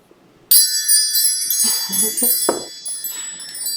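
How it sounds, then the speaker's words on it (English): Metal wind chimes are set swinging suddenly and ring out in a bright, shimmering cluster of tones that keep sounding. Faint handling noises come and go underneath. "Let's call in Spirit with some wind chime time."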